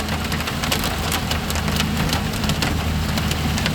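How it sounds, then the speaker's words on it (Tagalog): Heavy rain mixed with falling hail drums hard and steadily on a vehicle during a storm, a loud, dense roar with scattered sharp impacts and no talk. "Lakas po ang ulan."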